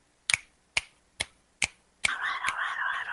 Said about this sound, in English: Everybody else listening, finger snaps.